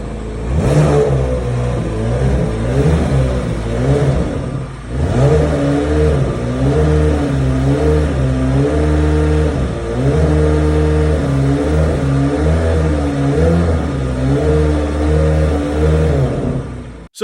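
A C8 Corvette Z06 with a flat-plane-crank V8 revs repeatedly, its engine note climbing and falling in loud, sustained sweeps with a brief dip midway and no talk.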